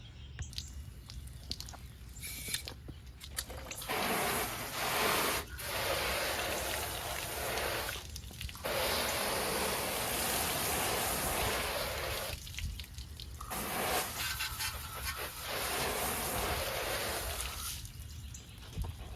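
A steady spray of water from a garden hose hisses in long bursts over car fender liners, pausing and resuming several times, with dripping and trickling in between.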